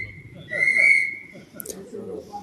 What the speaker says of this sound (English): There's the first whistles.